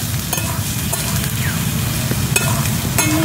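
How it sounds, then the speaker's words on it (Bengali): Red radish and potatoes frying in a pan, a loud close sizzle with sharp clinks of a spatula stirring at intervals throughout. "ভালো করে ভেজে নেব। মূলো আলু দিয়ে"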